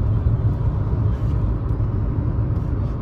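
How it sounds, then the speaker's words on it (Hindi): Kia Sonet diesel engine revving after a downshift while driving, a steady loud low rumble with a droning, continuous tone heard from inside the car, with no talk. "ये देखो भाई डाउन शिफ्ट मारा गाड़ी ने, 3500 rpm के बाद शोर मचाने लग जाती है ये"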